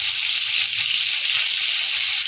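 Potatoes sizzle loudly in hot oil with tempering spices in a home kitchen pan, a dense continuous crackling hiss with no pauses, close and steady, no talk.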